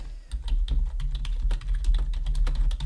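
Steady typing on a computer keyboard, with quick irregular key clicks running continuously through the whole stretch at close range, and no voice.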